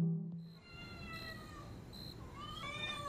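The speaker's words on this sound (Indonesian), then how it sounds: "terdengarlah suara kucing dari rumah Gautam" A cat meows from inside a house, with several drawn-out, wavering cries standing out clearly against a quiet, faint background.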